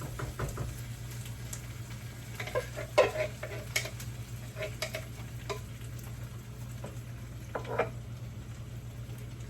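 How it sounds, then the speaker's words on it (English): A 28-ounce can of crushed tomatoes goes into a hot pan of seasoned shakshuka base, giving a soft, steady sizzle with scattered stirring clicks and scrapes, faint and close, with no voices. "next we're going to add a 28 ounce can of crushed tomatoes"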